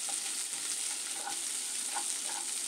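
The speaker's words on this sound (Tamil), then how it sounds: "ரெண்டு வெங்காயம் மெலிசு மெலிசாக கட் பண்ணி வச்சுக்கிறேன் அதையும் இதில் சேர்த்துக்கலாம் நல்லா வதக்கிக்கலாம்" Thinly sliced onions sauté in a pan for a Tamil onion masala, with a constant bright sizzle and a few soft stirring scrapes, close up and without talk.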